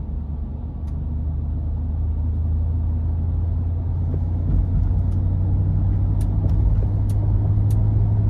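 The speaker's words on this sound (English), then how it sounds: "I'm gonna put this into sport mode now and see how it accelerates." A 2023 Ford F-250 Lariat Ultimate Tremor with a 7.3-litre engine accelerates, heard from inside as a loud, steady low engine drone and road rumble that builds slightly, with small clicks above it.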